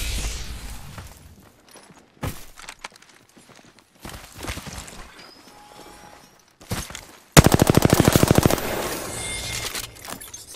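Gunfire in a shooter video game shootout: scattered shots and clatter, then a loud sustained burst of rapid automatic fire that fades out, with no talking.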